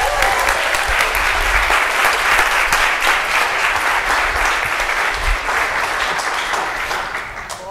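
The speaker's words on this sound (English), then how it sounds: "So I hope you'll give a big round of applause to Rachel Burns, Christina Kern, and Christy Thompson," A live audience gives sustained, dense applause for guests coming onstage for a panel. The clapping is loud and steady and tapers slightly near the end.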